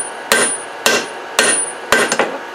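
Damascus steel is hammered on a flat die below welding heat, four loud, evenly spaced ringing blows about half a second apart, the last followed by two lighter taps.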